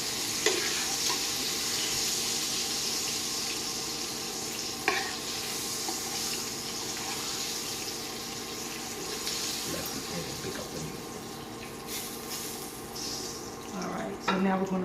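Pork chops frying in oil in a home kitchen, a steady broad sizzle running the whole time with occasional clatters and soft speech in the background.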